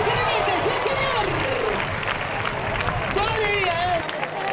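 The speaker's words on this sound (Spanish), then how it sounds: "¡Y ahí está su fuerte aplauso para él!" Crowd applause and cheering fill the stands at a recortadores bull-leaping contest, a dense, continuous roar of clapping and voices with an announcer shouting over it.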